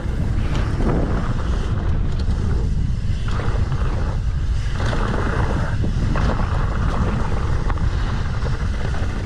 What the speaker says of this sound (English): Which is literally the worst direction for the wind on this trail.